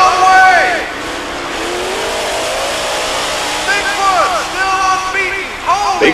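Bigfoot monster truck racing at a U.S. Hot Rod Association show, a loud steady engine roar with squealing, under continuous excited commentary from an announcer over an arena crowd.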